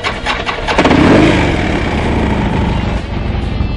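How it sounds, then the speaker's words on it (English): A Harley-Davidson motorcycle engine cranks and fires up loudly close by, then settles into a rumbling idle that holds steady after the start. "Let's give this bike a quick listen."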